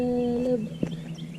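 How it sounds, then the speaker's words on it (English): Birds call and chirp outdoors in Arkansas during a total solar eclipse, with a steady tonal whistle early on and a brief sharper burst midway, moderately loud against background noise. "The birds are so noisy."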